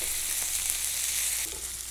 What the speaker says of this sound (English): these are frying up nicely